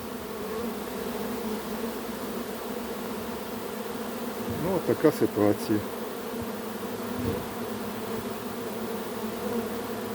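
Constant droning hum of many honey bees buzzing close by, with a person speaking briefly in the middle.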